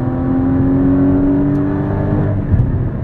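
A 2016 Porsche Cayman GT4 flat-six engine revs hard near 6,000 RPM, a loud steady harmonic whine held and slowly rising, then dipping slightly as it settles, with no talk.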